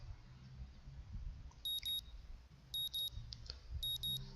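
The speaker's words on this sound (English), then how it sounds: "The sound of an alarm pulls me out of a fitful slumber and into the unpleasant state of wakefulness." An alarm clock in the Katawa Shoujo visual novel beeps in three evenly spaced pairs of sharp, high electronic bleeps, clear and alone over a faint low hum.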